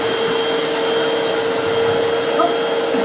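A Santaire Extend (Mighty Mite) canister vacuum cleaner runs steadily and loudly, with a constant whine and motor tones holding unchanged throughout with no talking.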